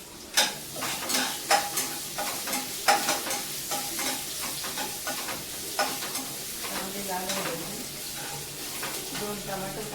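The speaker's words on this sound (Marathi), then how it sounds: "एक चम्मच जिरा पावडर आणि पेस्ट केलेले आहे लसणाचे आणि अद्रकीचे ते टाकते" Garlic and ginger paste with cumin powder sizzles in a pan for pav bhaji, a steady close frying hiss broken by repeated scraping stirs.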